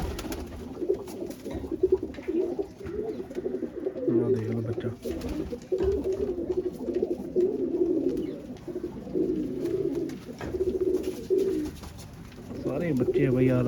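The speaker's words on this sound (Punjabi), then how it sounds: "ਬੱਚੇ ਕਬੂਤਰ ਮਸਤ ਹੋਏ ਫਿਰਦੇ ਆ ਨਾ ਕਬੂਤਰੀਆਂ ਦੇ" Young pigeons cooing in a loft, soft repeated low coos going on throughout at close range, with a person talking over them now and then.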